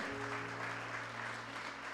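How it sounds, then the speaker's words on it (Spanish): A church congregation claps for God in a sustained, fairly distant wash of applause, with a low droning hum from the sound system beneath it. "Dale un aplauso a Dios"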